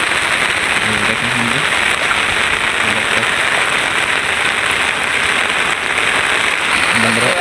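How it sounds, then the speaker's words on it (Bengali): Heavy rain pours steadily over village fields, a dense, even hiss of drops close by with no break, and faint low thumps now and then. "বন্ধুরা অনেক বৃষ্টি"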